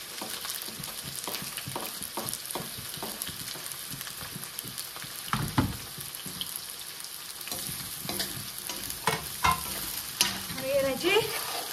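Onions sizzle in hot oil for chicken biryani while a utensil stirs and scrapes the pan at intervals, a continuous close-up frying hiss with irregular clatters.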